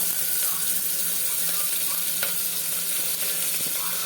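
Black pepper and cumin frying in hot oil in a pan while cooking kichadi, a steady, even sizzle with faint scattered clicks, close by and with no talking.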